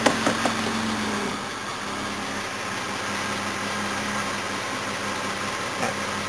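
A Jaguar XJ6 engine idles steadily after being put in gear, a continuous low rumble with a faint hum, preceded by a few light knocks at the start and one small dip near the end.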